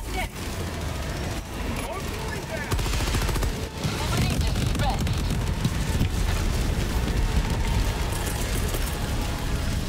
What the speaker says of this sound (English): Airstrike on it.